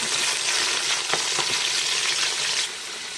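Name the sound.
spices frying in oil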